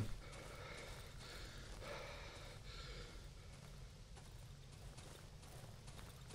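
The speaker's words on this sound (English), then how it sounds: "Is my guy okay? He seems to be heavy breathing a lot." A character in the horror game Darkwood breathes heavily in a quiet, repeated rhythm of gasping breaths over a low steady rumble, faint throughout.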